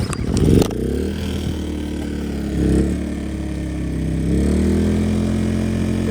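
An old loader's engine idles steadily without building power, a low constant drone with a couple of brief clattering bursts near the start and mild swells in pitch later.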